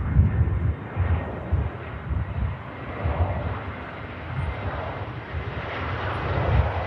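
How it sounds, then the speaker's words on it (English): An Aer Lingus Airbus A320 touches down at Manchester Airport on arrival from Dublin, its engines a low, rumbling roar that swells and fades in uneven surges alongside buffeting wind noise at the microphone. "Aer Lingus 320, next touchdown from Dublin."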